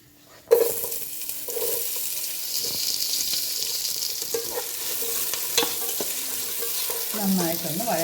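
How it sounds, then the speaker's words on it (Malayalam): Five finely chopped onions drop into hot sunflower oil, bursting into a loud, steady sizzle that carries on alone with occasional stirring scrapes toward the end. "നന്നായിട്ടൊന്ന് വഴറ്റാം"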